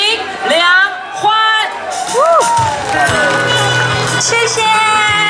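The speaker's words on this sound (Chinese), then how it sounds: "让我们来掌声欢迎" A temple stage crowd at Taoyuan Huguo Temple cheers and whoops in welcome of a singer, loud and close, with shouts and excited voices rising in bursts over a host's talking.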